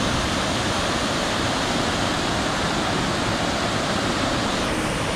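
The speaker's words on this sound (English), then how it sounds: "right in the middle of the city is the Pliva waterfall." The Pliva waterfall in the center of Jajce gushes with huge volume, a loud, unbroken broadband roar of falling water that holds steady throughout, with no voices.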